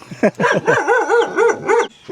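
A tied-up dog close by barks and yelps in a rapid series of high, whining barks, loud and insistent.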